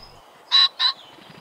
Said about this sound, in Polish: Krzyk bażanta to jedna z tych dźwiękowych wizytówek, którą każdy zna